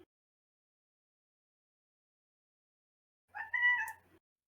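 A single drawn-out cat meow rises after a long stretch of near silence, heard alone and fairly close.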